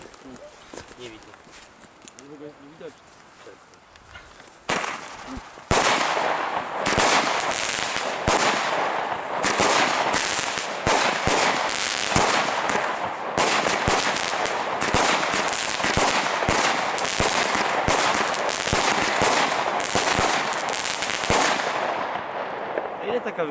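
A quiet lead-in gives way to a fast barrage of a 19-shot small-caliber firework battery, loud sharp bangs firing in rapid succession for about eighteen seconds before stopping.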